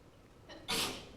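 A single short sneeze bursts out abruptly after a faint intake, heard in a quiet lecture room on sports law.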